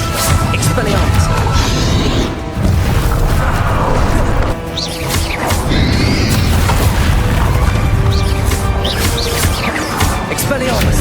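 Casting Expelliarmus in Hogwarts Legacy combat brings loud booming blasts, crashes and magical whooshes layered thickly over one another, with voices shouting amid the continuous battle din.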